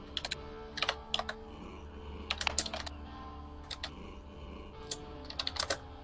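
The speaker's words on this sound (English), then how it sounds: "Sorry, I'm typing loudly." Someone types loudly on a computer keyboard, with irregular bursts of crisp key clicks and short pauses, close and alone.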